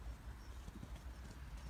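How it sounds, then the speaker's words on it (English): Horses gallop across a field, their hoofbeats heard as a faint, rapid, uneven drumming at a distance under steady outdoor background noise. "Some horses in the field, galloping around"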